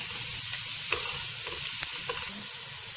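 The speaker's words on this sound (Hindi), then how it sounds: "इसके अंदर इस स्टेज में मैं ऐड करूँगी लौंग, इलायची और ज़ीरा और इसको भी मैं साथ फ्राई करूँगी।" Cloves, cardamom and cumin fry with onions in a pan for a mutton shahi dish, giving a steady, soft hiss of sizzling oil with occasional light stirring clicks close by, and no voices.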